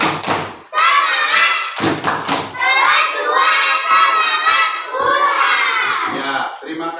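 Schoolchildren in a primary class do a rhythmic spirit clap together, loud close claps and thumps in a quick pattern with children shouting and chanting along over it.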